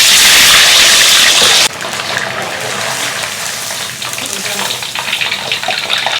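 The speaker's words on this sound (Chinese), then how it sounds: "油热，下入豆腐条。" Tofu strips dropped into hot oil give a loud, rushing sizzle that drops sharply after the first couple of seconds and settles into a steady crackling hiss.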